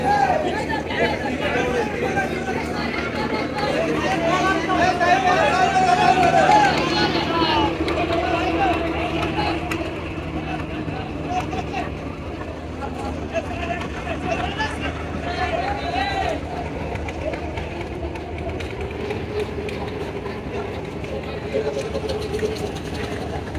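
A trawler boat's engine chugs steadily under the babble of many people talking aboard as it carries passengers out to catch a launch.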